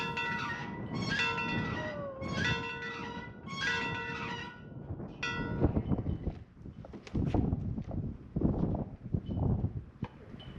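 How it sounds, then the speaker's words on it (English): An old schoolhouse bell is rung by hand, ringing out four bright, resonant clangs about a second apart, each leaving a lingering metallic hum, before the ringing dies away into uneven clunks and rustling. "Sue just couldn't resist ringing that school bell"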